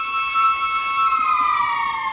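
A wailing siren drones steadily at a distance with slowly gliding tones, heard alone near a sandy shore.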